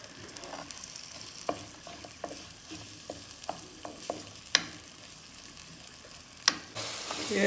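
Curry leaves crackle and sizzle in coconut oil for a mackerel curry with mango and coconut milk, a soft continuous hiss broken by scattered light clicks and spatters, near and moderately quiet.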